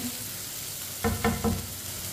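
Tomatoes cooking in a pan for chicken karela, with a soft steady sizzle and three quick scrapes of a spoon stirring them in a row, close and fairly quiet.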